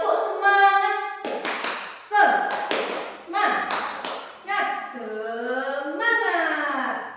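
A group of children chant loudly together, punctuated by bursts of rhythmic hand clapping in unison.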